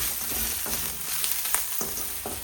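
Spices such as turmeric, masala, salt and dry coriander sizzle in hot oil for a mirchi vada tempering, a steady close frying hiss with a few sharper crackles and stirring scrapes, no voices.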